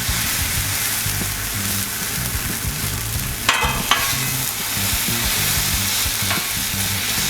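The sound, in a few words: chorizo frying in a pan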